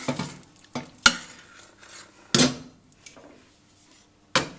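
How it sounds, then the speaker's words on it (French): Pasta with cheese sauce being stirred for a baked mac and cheese gratin, with a spoon scraping and clinking against the dish in a few sharp strikes between softer stirring sounds, close up and without talk. "Donc, je mélange."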